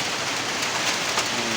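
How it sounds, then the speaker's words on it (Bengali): Heavy night rain drums on a tin roof during a storm in Niamatpur, Naogaon, a dense, continuous loud patter with no let-up. "টিনের শব্দ, উপরে বৃষ্টি পড়ে তাই টিনের শব্দ হচ্ছে"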